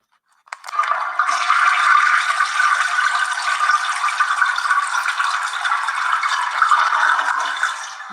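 A toilet flushes close by, a sudden rush of water starting with a click and roaring steadily for about seven seconds before trailing off, with no voices.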